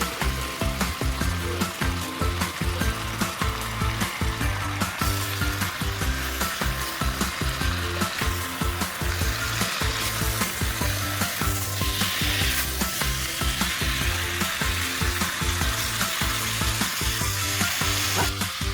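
Chicken and bottle gourd pieces fry in a pot with a loud, steady sizzle, broken by regular rhythmic scrapes of stirring, with no voices.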